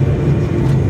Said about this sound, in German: Machen wir den Umkehrschub rein.